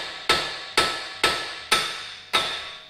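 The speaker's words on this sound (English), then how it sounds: "give her a big whack up" Five heavy hammer blows strike the tie rod end on a 2009 Dodge Avenger, evenly spaced about half a second apart, each a sharp metallic whack that rings and decays before the next, close and loud.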